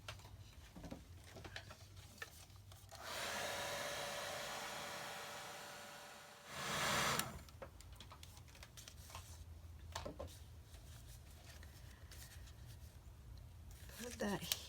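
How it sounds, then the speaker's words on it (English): A dryer blows a steady airy rush onto a journal page for about four seconds, then gives a shorter, louder burst, framed by close paper handling and scratching. "Let's dry that just a little bit."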